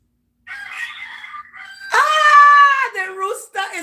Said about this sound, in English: The rooster is crowing.